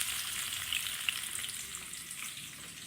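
Onions fry in hot oil with a soft, steady sizzle and crackle, a few tiny pops rising above the hiss.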